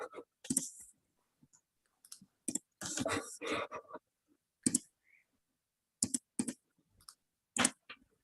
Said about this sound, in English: We can hear a bit of clicking, but maybe that will stop, hopefully.